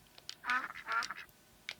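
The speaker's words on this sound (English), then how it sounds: "They go quack and they can lose their feathers, which is a bit cruel." Cartoonish ducks quack in RollerCoaster Tycoon 3 Complete Edition on Nintendo Switch, two clear honking quacks close together followed by a short faint one, quiet and alone.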